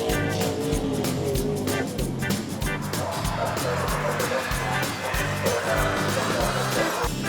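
Sprint cars roar through turns 3 and 4 at Western Springs Speedway on the final lap of the Springs Royale, a loud, continuous engine howl with a fluttering rhythm, heard close with a crowd and announcer under it.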